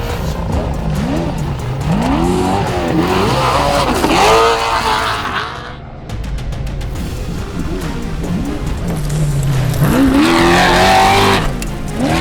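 A race car runs flat out in qualifying, its engine loud and close as it revs hard up through the gears. It dips briefly around the middle, then screams back up, with some tire noise and no talking.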